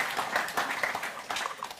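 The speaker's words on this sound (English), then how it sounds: "I think he deserves an applause for that." An audience at the CEV EuroBeachVolley 2023 drawing of lots gives a dense, steady patter of applause from many hands, moderately loud and continuous for about two seconds.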